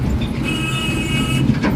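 A Konkan Railway passenger train runs between Bhandup and Khed, Ratnagiri, heard from on board as a steady rolling rumble with light rhythmic wheel clatter and a faint metallic whine.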